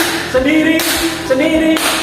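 A group claps in a classroom practice lesson, with short bursts of sharp claps in a regular pattern, close and clear, alongside a voice giving instructions.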